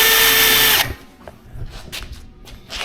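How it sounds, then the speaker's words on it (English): A 5/32 drill bit spins up to mark metal in a garage, a loud close whine that cuts off abruptly, followed by quieter handling clatter. "I always like using a 5/32 drill just to put a mark."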